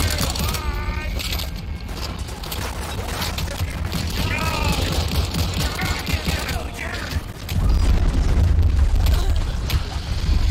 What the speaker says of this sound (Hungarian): itt már lövöldözés van